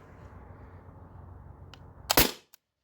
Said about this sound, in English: I think I got two more shots.